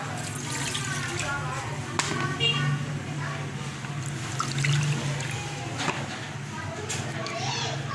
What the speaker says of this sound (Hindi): 2 कप पानी हम लोग पतीले में डालेंगे